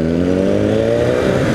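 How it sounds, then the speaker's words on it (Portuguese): Loud, steady engine drone of a Suzuki motorcycle moving through street traffic on Avenida do Contorno in Belo Horizonte, with rising engine tones over continuous traffic noise for the whole short stretch. "uma moto bem interessante aqui na frente, uma Suzuki"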